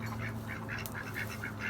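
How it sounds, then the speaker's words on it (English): Farmyard geese honk in a string of repeated short calls while harassing a duck, the calls coming fairly close over a constant low background hum. "Got some geese bullying a duck."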